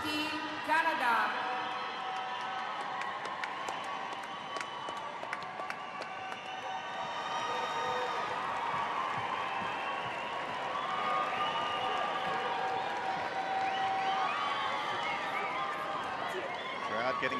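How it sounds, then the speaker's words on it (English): Crowd at the 2013 FINA World Championships in Barcelona, a swimming and synchronised swimming event, rising in a sustained roar of cheers and applause, with an announcer's voice running over it throughout. "Crowd getting excited now."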